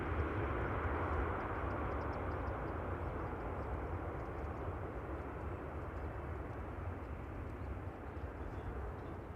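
A business jet on final approach to runway 36 right at an airport gives a steady, broad, distant roar of engine noise that holds level and fades slightly, with no voices.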